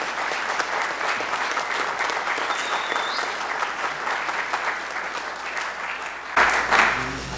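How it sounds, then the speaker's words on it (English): Audience applause at a trombone choir concert, a steady dense wash of clapping from a crowd that fills the room evenly before breaking off abruptly near the end. "give one more round of applause for Tim."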